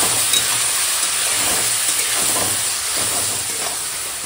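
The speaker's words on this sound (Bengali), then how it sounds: "এখন টমেটো গোটা গলে যাওয়া পর্যন্ত একদম রান্না করব" Tomatoes with turmeric powder and salt sizzle in a pan, a loud, steady frying hiss with faint stirring scrapes underneath that continues throughout.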